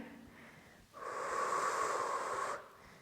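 A deep, steady exhalation during a Pilates workout, one sustained breath lasting about a second and a half, close and clearly audible over quiet room tone, with no talking.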